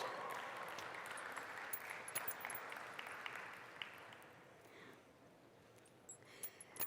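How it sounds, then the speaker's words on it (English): Faint, distant applause from a summit audience, a steady patter that tapers off near the end and leaves a few stray claps. "A loud round of applause."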